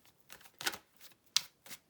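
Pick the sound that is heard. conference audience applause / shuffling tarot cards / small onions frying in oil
shuffling tarot cards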